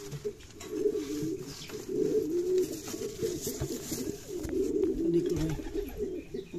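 Fancy pigeons on a pigeon farm coo steadily and close by, their low, throaty calls overlapping in a continuous rolling murmur with no pauses.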